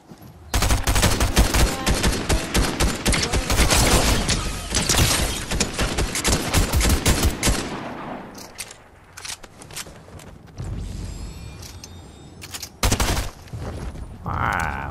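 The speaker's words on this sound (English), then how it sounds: "Hopefully that tank's still not shooting at us." Heavy gunfire in a Fortnite match, loud dense bursts of rapid shots for several seconds, then a lull with scattered shots and a final short volley, with a tank firing nearby.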